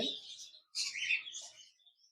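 A pair of cockatiels, one lutino red-eye and one grey, giving close, bright chirps and short whistled calls in two or three bursts with brief gaps, a faint voice at the start.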